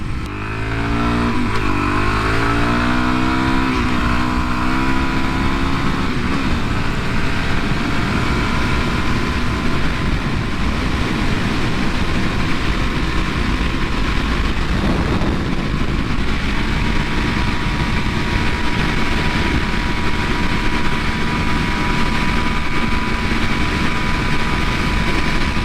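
A Suzuki DRZ 400SM motorcycle runs flat out on an open freeway, its engine climbing through gears early on, then holding a loud, steady high-rpm drone with constant wind rush for the whole stretch.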